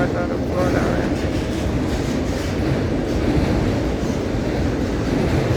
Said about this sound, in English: Auto racks going US out of Florida are empty.